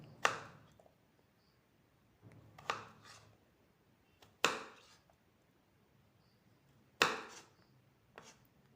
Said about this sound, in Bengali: পুরো আলুটা আমি এইভাবে টুকরো টুকরো করে কেটে নিলাম